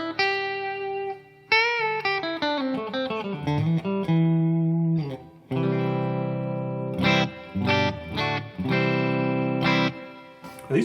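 Modded Silvertone 1423 electric guitar with Filtertron-style pickups played on the bridge pickup, ringing chords and strummed notes with sustained overtones, loud and close with brief pauses between phrases.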